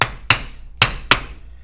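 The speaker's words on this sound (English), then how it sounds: "I've taken just a piece of Delrin like I have right here and then tapped on it with a hammer" A hammer taps a piece of Delrin plastic while freeing a paintball marker body, four sharp close knocks in an uneven rhythm, each ending quickly.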